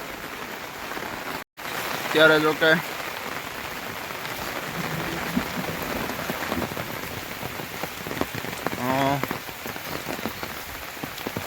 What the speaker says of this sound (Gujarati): બધું ચોમાસું છે વરસાદ ચાલુ છે